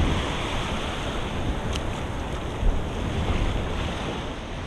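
Surf and wind on an open ocean beach, a steady broadband roar of breaking waves mixed with gusty wind buffeting the microphone, loud and continuous with no voices.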